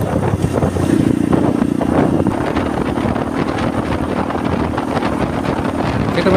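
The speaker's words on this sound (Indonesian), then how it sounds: "Jadi masih nyaman bawa motor sendiri kayak gini." An old vintage motorcycle ridden along a routine road near Muara Enim, Indonesia: a steady, close engine drone under heavy wind buffeting that runs without a break, with no talking.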